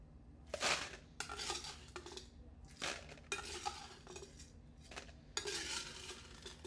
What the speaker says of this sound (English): a nice cup of ice here